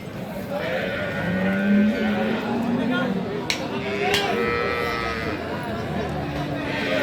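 A dairy cow at a cattle market in Aftabganj gives drawn-out lowing calls amid steady crowd murmur, with people talking nearby throughout.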